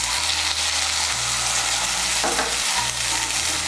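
Spice paste sizzling and frying steadily in a pan as a small splash of water goes in from a rinsed spice bowl, with a brief burst of stirring, while making shing fish curry with potatoes.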